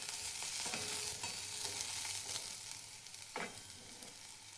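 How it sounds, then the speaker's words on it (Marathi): Cluster beans dry-roasting in a pan over a medium gas flame give a continuous soft sizzle, broken by scraping stirs and a clear spatula scrape near the end. "पाच मिनिट घ्यायची आहे गवारीची शेंग भाजून. मिडियम गॅसवरतीच भाजायची आहे शेंग."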